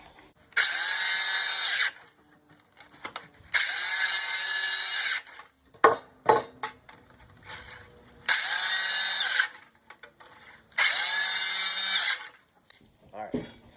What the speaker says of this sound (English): got a big hole drilled through there